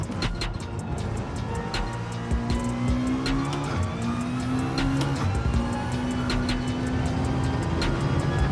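Aston Martin race car in Gran Turismo 7 racing, its engine droning steadily with shifting pitch throughout, joined by brief tire squeals and other cars nearby.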